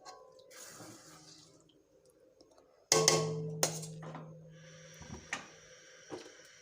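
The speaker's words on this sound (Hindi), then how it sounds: "तो अब हम इसमें पानी ऐड करेंगे।" Water is poured into a pot for a meatball kofta pulao: after a quiet start, a sudden loud splash of pouring is followed by lighter splashes and a few clinks against the pot.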